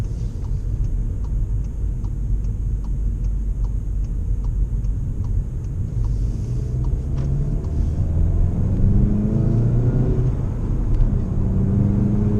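A boosted car accelerates hard from close by, its deep engine rumble climbing steadily in pitch and loudness, with a regular light ticking in the cabin early on.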